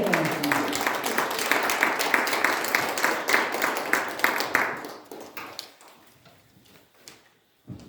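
A church retreat congregation applauds steadily for about five seconds, dense clapping that then thins out and fades to scattered claps and near silence.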